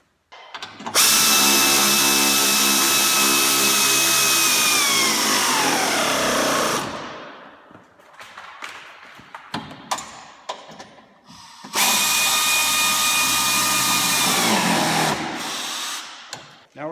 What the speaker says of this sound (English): we're going to go ahead and secure the radiator and bolt it to the upper core support with the 2